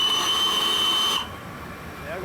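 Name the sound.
steam whistle of the Flying Scotsman locomotive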